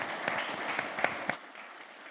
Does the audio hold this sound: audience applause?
yes